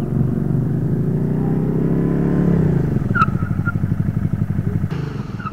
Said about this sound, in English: You heard the ABS kick in, you heard the tires chirp a little bit.